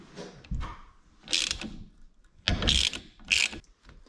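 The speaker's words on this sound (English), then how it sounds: "What I'm going to do is I'm going to tighten the nut here." A nut is tightened on the front end of a Vespa scooter during restoration, heard as three or four short, close bursts of metallic ratcheting with pauses between.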